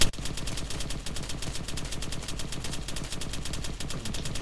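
Rapid automatic gunfire crackles continuously in Arma 3 as a player shoots at a light bulb, a dense stream of sharp, loud reports with no talk over them.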